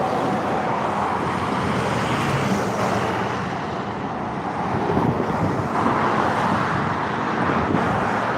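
Steady road traffic noise outdoors: a constant wash of passing cars and engine hum with some wind, continuous and fairly loud throughout, with no talking.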